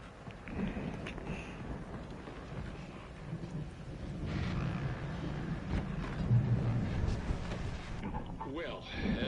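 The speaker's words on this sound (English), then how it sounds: "that storm we all felt coming is finally here" A thunderstorm with rain in the video game Alan Wake: low rolling thunder rumbles over a steady hiss of rain, swelling in the middle, with muffled speech faintly underneath.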